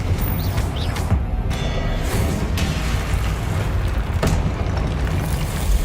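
Fiery blasts from the Confringo spell in the Hogwarts Legacy video game, a dense, loud, continuous rumble of explosions with sharp bursts cutting through, with no voices.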